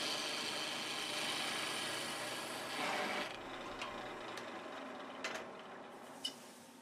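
A 3/8 inch detail spindle gouge cuts end grain on a spindle turning on the lathe, giving a steady, close rasping hiss that eases off partway through, with a few small clicks near the end.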